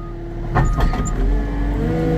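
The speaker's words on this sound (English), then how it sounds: "I'm not bad-mouthing the Caterpillar here, but the throttle response is so touchy on this thing" A Caterpillar heavy machine's diesel engine runs steadily and loud up close while grabbing a big maple log, a constant low rumble with brief clunks and a slight surge in the middle.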